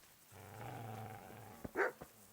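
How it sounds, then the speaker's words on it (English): A dog growls low and steady inside a house in the medieval game Kingdom Come: Deliverance, a sustained rumble lasting over a second, followed by a couple of short sharper yips or barks near the end. "The dog in there."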